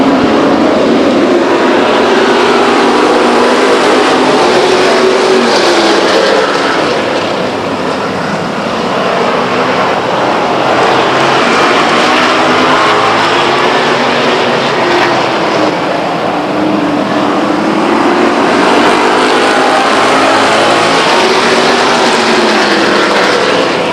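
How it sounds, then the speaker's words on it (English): Hot rod race cars roar around Stockton 99 Speedway, a loud, steady engine drone with rising and falling passes as the pack circles the oval, no voices on top. "Looks like we're ready to go hot rod racing here in just a moment."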